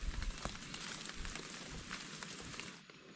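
Faint, steady patter of rain falling on surfaces, a soft continuous hiss with scattered drips, distant and low in level.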